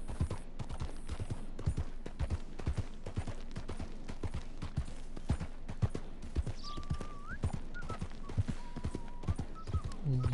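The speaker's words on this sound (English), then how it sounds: "I thought that was a horse in there." Horse hooves clip-clop in a steady, repeated rhythm in Red Dead Redemption 2, with a neigh or whinny rising over the trotting later on; the hoofbeats are close and clear against a constant background.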